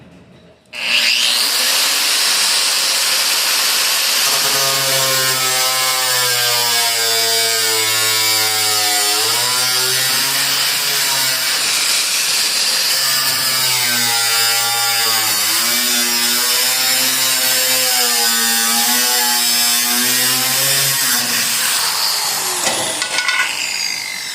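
A power cutting tool slices a hole through the sheet-metal body of a 1949 Studebaker gasser project, a loud, steady high-pitched whine with wavering pitch that runs for about twenty seconds before stopping abruptly.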